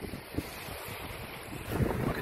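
Ocean waves roll onto a summer beach in a rushing wash mixed with gusty wind buffeting, the surge swelling louder toward the end.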